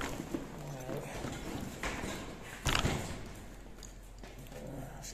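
Horse hooves clip-clop at close range on a cycling tour route between Cerbère and Barcelona, several uneven steps with a sharper knock near the middle, under background noise and brief voices.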